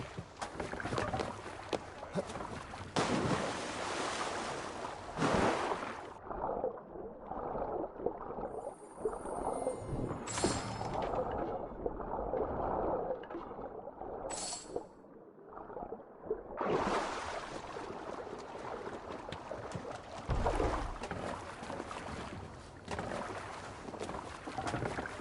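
A sailing ship crosses open sea in Assassin's Creed Valhalla: continuous rushing water and wind against the hull, loud and broadband, dipping briefly midway with creaks before the surge returns.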